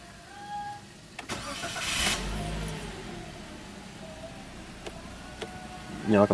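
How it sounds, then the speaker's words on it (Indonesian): A 2018 Toyota Calya E with manual transmission starting up, a clear crank and catch near the middle followed by a steady idle and some faint interior clicks. "Ini dia kuncinya, yuk nyalakan mesin dulu."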